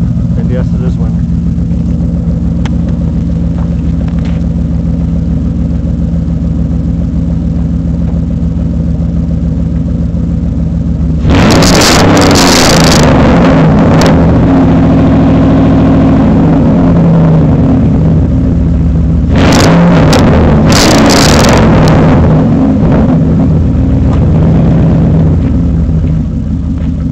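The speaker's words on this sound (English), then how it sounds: "It is straight piped to exhaust, but it isn't true duals." A two-wheel-drive, leveled Dodge Ram 1500 with headers and a straight-piped exhaust idles with a low, steady rumble, then revs loudly twice in winter conditions; the louder bursts rise sharply over the engine drone.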